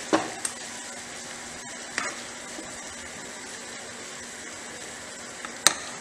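Spices such as garam masala and fennel being stirred into raw mango chutney in a pan, a soft sizzle with a few sharp scrapes and clinks of the spoon against the vessel, close and quiet.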